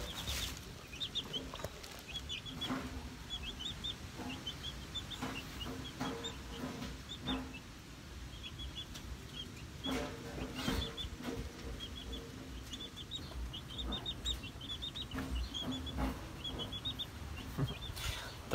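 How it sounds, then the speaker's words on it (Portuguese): Free-range chickens on a small farm cluck in a steady, busy chorus of short calls, with occasional wing flaps and scuffling nearby and no talking. "São galinha caipira."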